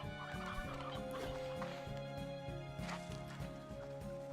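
Chickens cluck in a video game, with repeated bird calls layered over a steady, rhythmic game soundtrack.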